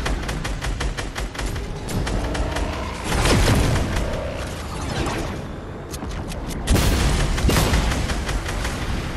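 Rapid gunfire bursts in the Fortnite Battle Royale game, dense strings of shots and booming impacts packed together, loud and continuous with brief lulls between heavier volleys.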